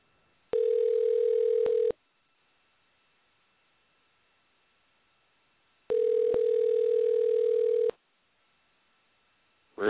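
Two long steady tone bursts with a pause between, like a phone ringing unanswered on the line, loud and alone with no talk.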